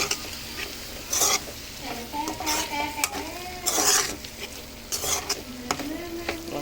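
Tomato pieces are stirred into curry frying in a pan, a steady sizzle under repeated scraping strokes of a spoon against the metal, close up and without talk.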